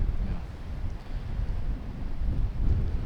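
Steady low wind rumbling and buffeting against the microphone outdoors on a disc golf course in Andalucia, a continuous dull roar with gusty swells and no talk.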